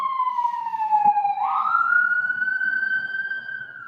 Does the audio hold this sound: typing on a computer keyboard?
no